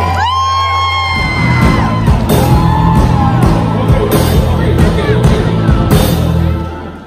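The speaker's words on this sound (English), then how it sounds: "let's do a big round of applause for Singapore Janet" A stage audience at a comedy and singing show erupts in loud cheering, whoops and shouts over steady applause, a dense crowd roar that holds strong for about seven seconds before starting to fade.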